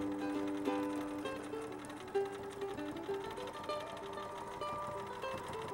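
A quilting machine stitches a quilt stretched on a frame, sewing from left to right with a continuous mechanical whir and rhythmic needle chatter, heard close and steady with no talking.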